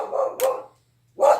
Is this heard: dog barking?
yes